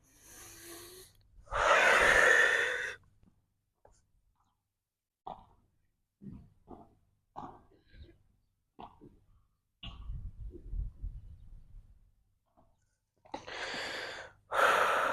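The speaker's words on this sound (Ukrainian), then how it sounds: "А зараз ми робимо вдих, повний повний видих, повністю видихаємо і втягуємо живіт" Deep inhales and long, full exhales during a morning breathing and abdominal vacuum exercise, heard up close as loud broadband breaths at the start and end with quieter breathy movements and pauses between.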